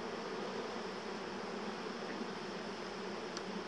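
Dense crowd of honeybees droning steadily in an open, vigorous hive packed with brood comb, a continuous close buzzing hum with no voices.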